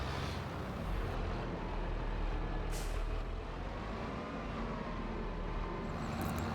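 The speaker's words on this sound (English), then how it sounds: "I forgot how much horsepower this Fendt has. It flies along." A Fendt tractor driving along in Farming Simulator 25, a steady low engine rumble with a brief airy hiss partway through, fairly quiet and unbroken.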